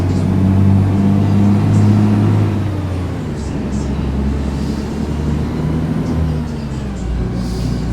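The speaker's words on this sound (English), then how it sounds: "Come on, truck, get up here." A heavily loaded truck in American Truck Simulator labours up a hill, its engine droning low and steady with a shifting pitch, loud and continuous.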